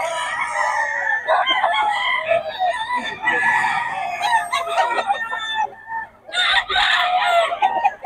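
Several roosters crow loudly and repeatedly, overlapping with clucking chickens nearby, a busy farmyard chorus.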